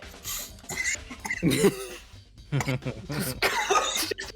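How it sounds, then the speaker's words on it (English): A person coughs several times in rough, raspy bursts, mixed with throaty vocal noises and breathy sounds close to the microphone. "coughing noise."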